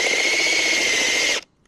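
A power drill spins steadily into dirt with a high, whining motor tone, held continuously for over a second before it stops abruptly into silence.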